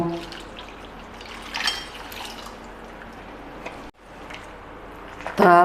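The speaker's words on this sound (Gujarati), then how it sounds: "તેમાં આપણે બે ગ્લાસ પાણીને ઉમેરશું" Water is poured into a sabudana and mashed potato mixture for gathiya dough, giving a steady soft liquid wash that runs for several seconds with a short break near the end.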